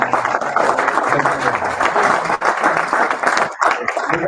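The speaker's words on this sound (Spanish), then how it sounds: "Un aplauso por favor." An audience at a human rights and democracy forum bursts into lively, dense applause that continues throughout. It dips briefly near the end, and a voice may faintly show under the clapping.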